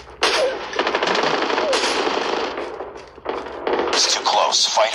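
Rapid automatic gunfire in Call of Duty on the Nuketown map, loud and close, coming in dense bursts with short pauses, while players talk over it.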